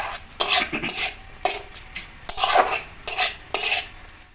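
A spatula mixing a hot steamed fish mixture with chilli powder in a pot, bursts of scraping and knocking strokes in an uneven rhythm, close and clear, no speech.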